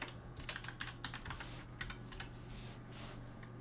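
Rapid, steady typing on a computer keyboard as code is entered, with close, fairly quiet key clicks in quick bursts over a low constant hum and no speech.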